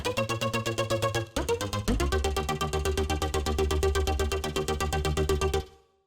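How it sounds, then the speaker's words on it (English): A pulsing LFO chord synth preset in the future house style chops rapid, even stabs of a bright chord, pausing briefly once before resuming, then cutting off at the end. "The final preset I'm going to show you is this typical LFO chord synth"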